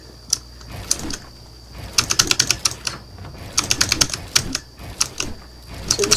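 Crisp, close clicking from a Razer Huntsman Mini keyboard during Fortnite play, coming in rapid clustered bursts of keystrokes separated by short pauses, with no talking.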